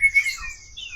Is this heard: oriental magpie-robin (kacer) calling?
yes